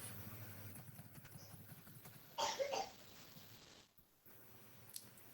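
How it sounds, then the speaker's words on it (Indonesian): A single cough, short and fairly distinct, rises out of a quiet room in the middle of an otherwise hushed stretch, with faint background noise around it. "Oh, ada suara batuk."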